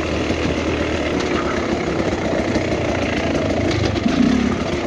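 Beta XTrainer 300 two-stroke dirt bike engine running steadily while riding down a bouldery riverbed, a loud continuous drone with small surges and a brief louder push near the end.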